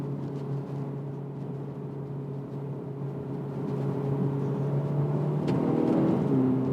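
A 2021 Hyundai Elantra N-Line accelerating in manual mode with quick gear shifts, a steady engine drone that swells louder toward the end as revs climb, heard from inside the cabin with no talking.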